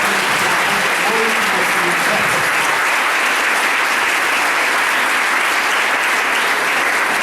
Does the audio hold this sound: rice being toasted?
no